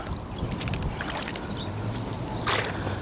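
Strong gusts buffet the microphone with a low, rumbling roar while fishing, swelling into a louder burst near the end.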